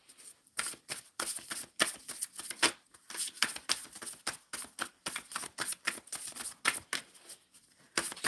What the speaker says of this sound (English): Shuffling for the collective.